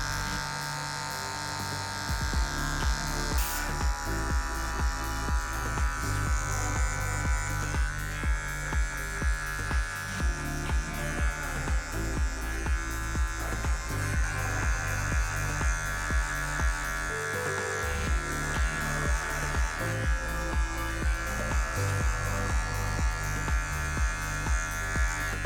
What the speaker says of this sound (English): So I hold his hair, hold the top, so then the clipper doesn't grab anything from the top.